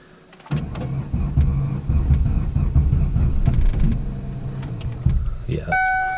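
A car's starter cranks steadily for several seconds during a cold start in snow, strained and repetitive, then stops with a brief electronic tone at the end.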